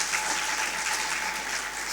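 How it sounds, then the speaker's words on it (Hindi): A brief, loud burst of audience applause at a Hindi comic poetry gathering, many hands clapping densely and evenly with no talk over it. "अगर मेरा बदला ठीक हो गया हो तो एक बार जोरदार तालियां बजा दीजिएगा।"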